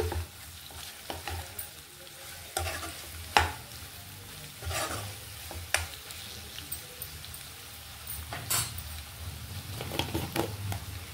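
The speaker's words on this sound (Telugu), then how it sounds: "ఇలా కొంచెం కలుపుకుంటూ ఉండాలి" A spoon stirs egg potato curry in a frying pan, with repeated scraping clatters over a low sizzle, close and irregular, with no talk.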